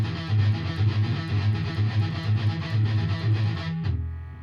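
Electric guitar through an amp, played with left-hand taps followed by quick strums on the same string, gives a steady, driving stream of gritty repeated notes at moderate volume before cutting off abruptly near the end.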